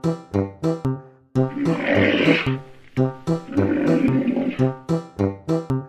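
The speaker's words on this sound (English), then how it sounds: "Correct! It's a rhinoceros." Rhinoceros calls: rhythmic bursts of deep, throaty grunting snorts, close and loud, with two longer rough roaring breaths in between, no talking.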